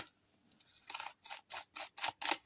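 Thick paper for handmade paper flowers being handled up close, giving five or six quick crisp crinkling rustles in a steady rhythm after a quiet start, with no voices.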